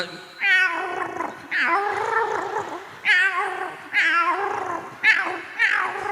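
A person imitates a cat, giving a string of drawn-out, wavering meows and yowls, five or six calls in a row, close and fairly loud.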